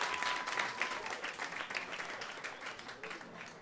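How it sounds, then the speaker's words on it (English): Audience clapping at a comedy club as a comic is welcomed to the stage for a five-minute stand-up set. It is a short, steady burst of many hands, fairly close and moderately loud, with no talking over it. "That's the clapping part."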